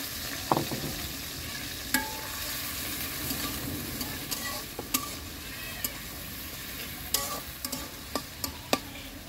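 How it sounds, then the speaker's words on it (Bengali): Onions fry in a wok on a stove on a windy rooftop, with a continuous sizzle, occasional sharp clicks of stirring, and a breezy background hiss. "পেঁয়াজটা ভাজা ভাজা করে নিব।"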